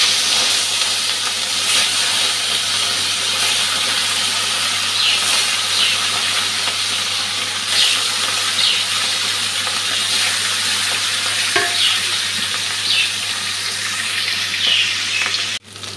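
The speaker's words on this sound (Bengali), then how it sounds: "মাছটা নুন হলুদ মেখে রেখেছি, এখন ভেজে নিচ্ছি" Katla fish pieces rubbed with salt and turmeric fry in hot oil, giving a steady close sizzle and hiss with occasional sharper crackles and spits throughout.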